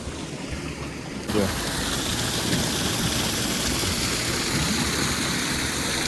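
Farm well water pump starting up at dawn, then water gushing steadily from the line, a loud continuous rushing flow that begins abruptly after a second of quieter outdoor hum.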